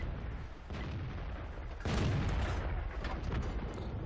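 A tank gun fires in World of Tanks with a heavy, broad boom that swells into a loud rumbling blast, set over constant engine and battle noise.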